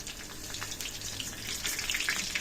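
Fenugreek and cumin seeds tempering in hot oil crackle and sizzle up close for a short moment, bright and continuous and growing a little louder toward the end, with no voices.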